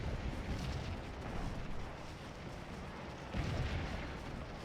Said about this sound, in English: We still got cannons sending canister out